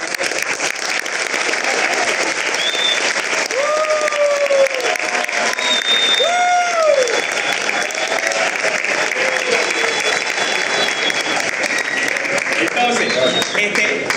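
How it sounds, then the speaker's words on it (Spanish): An audience at a university conference on community goat farming applauds a professor, a steady wash of clapping running the whole stretch while speech and a few whistles or tonal sounds cut through on top. "Un aplauso para el profesor."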